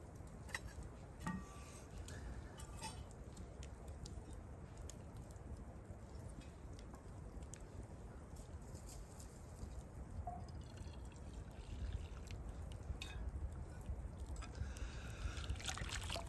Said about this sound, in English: I'll put some more water in my pan here so I can clean my pan